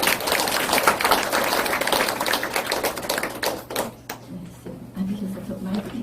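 Audience applause for an invited poet, a Buddhist monk, at a poetry reading event: dense, steady clapping from many hands that fades out partway through, leaving quiet room tone.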